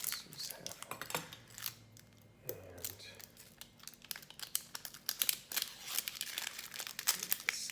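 Dry onion skin being peeled by hand in a home kitchen while preparing Japanese nikujaga, close crinkly rustling and crackling in quick irregular bursts, fairly quiet.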